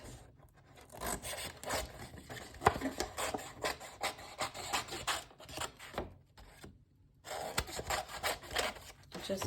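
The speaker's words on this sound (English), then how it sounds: "I'm going to cut the bottom part." Cardboard for a miniature farmhouse diorama being cut, with repeated close scraping and rasping strokes in an uneven rhythm and brief pauses between cuts, with no talking.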